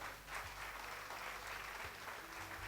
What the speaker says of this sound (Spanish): ¿Cuántos le dan un aplauso al Señor por eso?